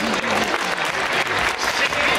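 Audience applause following a peewee cheerleading team's group stunt routine at a competition, a dense, steady wash of clapping from a crowd filling the whole stretch without pause.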